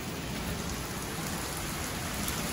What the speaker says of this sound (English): we have quite the inclement weather going on.